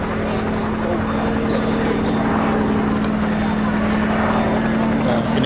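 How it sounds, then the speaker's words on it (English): A Chinook helicopter flies at an air show, its steady, throbbing rotor drone carrying at a distance under ongoing commentary from a voice. "You can hear the Chinook"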